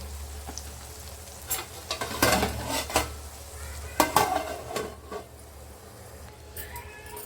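A metal lid is set onto a cooking pot of stuffed brinjal curry, giving a few sharp clanks and clatters over a soft background sizzle, close by.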